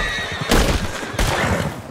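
A horse in Red Dead Redemption 2 lets out two loud, close whinnies in quick succession against a background of game ambience.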